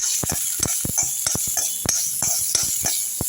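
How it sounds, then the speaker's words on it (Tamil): Green chillies and ginger frying in a pan for hotel-style coriander chutney, with a hissing sizzle and sharp, irregular clicks and taps from stirring, quite close, with no voices. "பச்சை மிளகா இஞ்சி இதுவும் வறுத்துடலாம்"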